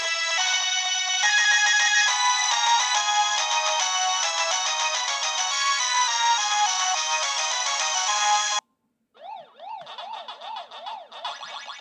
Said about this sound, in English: So if we play a little game, this is what it sounds like.